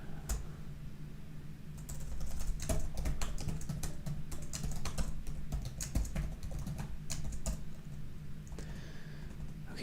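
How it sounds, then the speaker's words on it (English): Fast, uneven keystrokes on a computer keyboard, clattering close by in a continuous stream of sharp clicks with no talk. "keyboard input."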